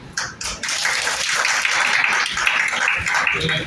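A small church congregation at a Good Friday worship service claps together in a steady patter of applause lasting a few seconds, with scattered individual claps standing out.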